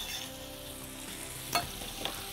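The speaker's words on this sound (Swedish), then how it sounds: "Vi rör runt lite och så låter vi det fortsätta fräsa" Garlic frying in a pan with saffron, cumin and coriander, a steady close sizzle with a sharp stirring clatter midway and a smaller scrape near the end, no voices.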